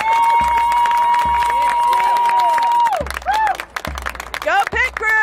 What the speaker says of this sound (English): And a round of applause for the Simon Kenton High School Band from Independence